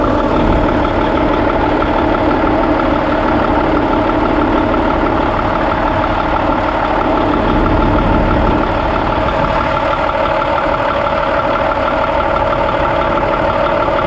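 A semi truck's diesel engine idles continuously at close range, a loud, even, low rumble with a steady mechanical texture throughout and no speech.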